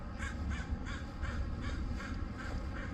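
A crow cawing in a quick, evenly spaced series of harsh calls, about seven in a row, over a heavy low rumble of wind or traffic.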